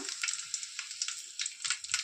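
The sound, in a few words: garlic frying in oil for sambar tempering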